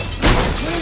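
Glass shattering in a John Wick film action scene, with computer-generated glass: a sudden loud crash at about a quarter second, followed by a sustained bright, crackling spray of falling shards that lingers to the end.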